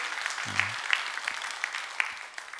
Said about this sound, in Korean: 여러분 박수 한번 크게 한번 해줘요